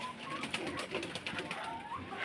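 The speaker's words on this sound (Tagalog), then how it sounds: "Wala ko kalapati oh." Pigeons coo softly nearby in a short, brief burst of low, rounded calls.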